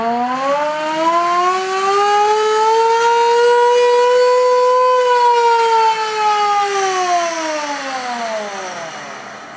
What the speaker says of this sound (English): a lot of the old fire trucks they're called hand crank sirens instead of electric